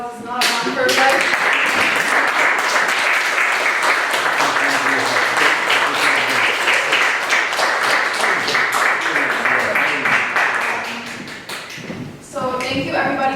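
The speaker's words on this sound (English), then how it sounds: "One more big round of applause" An audience at a Power to Truth event breaks into loud, steady clapping that holds for about eleven seconds before thinning out and briefly picking up again near the end.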